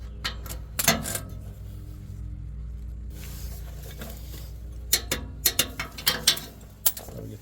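Ratchet clicks in short bursts as a swivel socket turns an engine bolt on a 2020 Chevy Express 3500 van with a 6.0-litre engine, sharp close ticks over a steady low hum, busiest toward the end.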